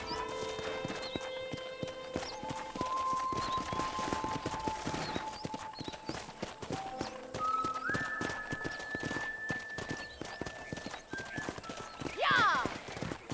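Horse hooves clip-clop along at a steady walking gait in the Western video game Red Dead Redemption, with a brief whinny near the end, under continuous speech and faint in-game music.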